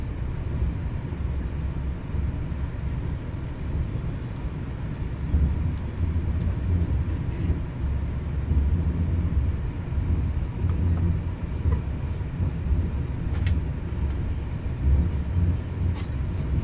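A Southern Peninsula express train in Malaysia runs over new rails at around 82 km/h under overhead wires, heard from inside as a steady low rumble with faint rattles and occasional clicks.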